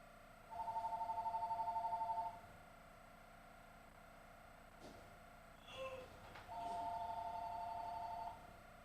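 A telephone rings in two short electronic bursts, a steady warbling trill at a moderate level in a quiet room with faint background noise and a few clicks between the rings.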